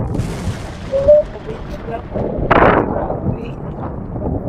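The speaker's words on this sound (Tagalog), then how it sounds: "Masabay yung kulog at saka kidlat!" Thunder rumbles during a storm on a fishing outing at Mariveles, Bataan, with a deep, rolling roar that swells midway through and lingers under steady rain or wind noise, while people talk nearby.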